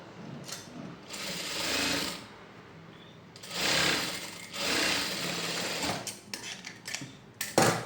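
A sewing machine stitches a shirt-collar kurti in several short runs, whirring and clattering close by, separated by quiet pauses and ending in quick stop-start taps.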